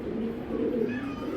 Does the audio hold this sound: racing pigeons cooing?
yes